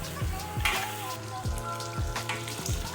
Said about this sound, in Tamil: Let the chili paste cook well until you can see the oil soaking up.